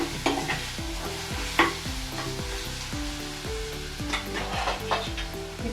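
Ginger garlic paste sizzles and fries in a pan for keema, with repeated rhythmic stirring and scraping strokes over a constant close sizzle and no talking.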